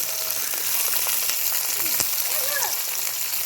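Carrot and capsicum frying with onions in a pan, giving a steady close sizzle with faint crackles throughout, and no talk over it.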